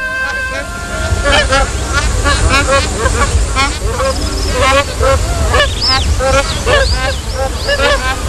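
A dense chorus of tropical water birds at an Australian sanctuary honks and calls continuously, many overlapping voices, loud and close, with a low background rumble.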